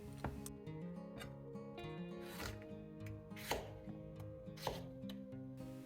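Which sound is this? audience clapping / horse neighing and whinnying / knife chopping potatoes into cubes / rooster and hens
knife chopping potatoes into cubes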